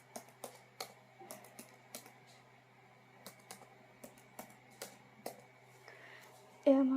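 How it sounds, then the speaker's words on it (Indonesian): Fingers type on a computer keyboard while working in Microsoft Word, a quiet irregular patter of distinct key clicks spread over several seconds, ending with a brief louder sound at the close. "Kita bisa langsung ketik."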